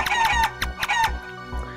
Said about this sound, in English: And we shoot the evil chickens.